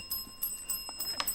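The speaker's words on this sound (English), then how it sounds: "that bell signifies the end of the match" A bell rings to mark the end of a junior schools quiz match, a bright sustained metallic ringing with rapid repeated strikes, clear and alone.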